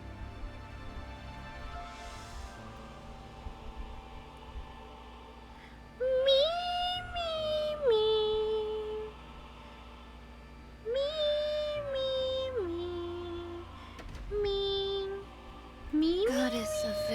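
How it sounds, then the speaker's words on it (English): A pet cat meows in several drawn-out, rising and falling calls spaced a few seconds apart, close and clear, over quiet background game sound. "My cat is thinking I'm talking to him."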